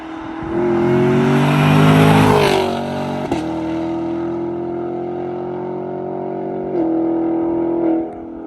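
Stock-exhaust Chevrolet Camaro SS and Dodge Charger Scat Pack accelerating hard, a loud close V8 roar rising through the gears with sharp upshift breaks and burbles, the engine note climbing again after each shift, no talk over it.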